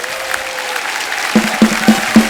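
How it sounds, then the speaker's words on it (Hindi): Studio audience applause on a Hindi TV comedy show, a loud, close wash of clapping followed by four evenly spaced punchy beats near the end, with no one talking. "एक बार हमारे मेहमानों के लिए जोरदार तालियां हो जाएं।"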